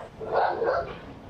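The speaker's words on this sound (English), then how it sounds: "At least two dogs, and I hear a bigger one, like a wolf." Dogs inside a house give a quick pair of barks, muffled and somewhat distant, with no other voices.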